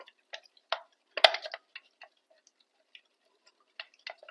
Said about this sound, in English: I have to stir it very well